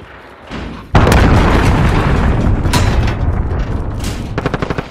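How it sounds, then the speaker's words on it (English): A cruise missile explodes in Call of Duty Modern Warfare with a heavy boom. A loud, sustained rumble follows the blast and slowly fades as rapid gunfire rattles near the end. "Enemy cruise missile!"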